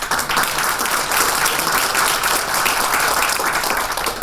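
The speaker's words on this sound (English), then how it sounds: "let's give another round of applause for Peggy Crawford" Loud, sustained round of applause from an audience at an executive leadership series talk, dense clapping holding steady throughout with no break.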